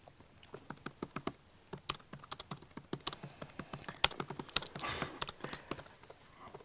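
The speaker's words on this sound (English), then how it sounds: "You're a very fast typer." Rapid typing on a computer keyboard, a dense run of crisp, close key clicks with uneven bursts and brief pauses, alone without voices.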